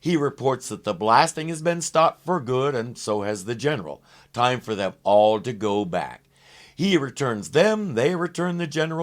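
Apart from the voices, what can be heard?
None of the usual background noises is heard.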